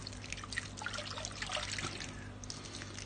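Water trickles and drips as aquarium filter media is rinsed, a faint splashy patter over a low steady hum, close and brief.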